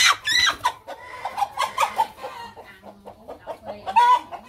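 Hens cluck and chatter inside a chicken coop where eggs are being collected, with two hens sharing one nest. Their repeated close calls rise and fall in irregular bursts, with no voices.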